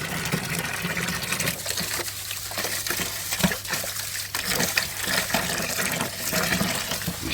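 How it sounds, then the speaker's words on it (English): Water pours steadily from a tap beside a koi pond, a continuous broad rushing splash with a faint low hum underneath, close and even throughout with no talking. "now what I do is I turn on this water tap here"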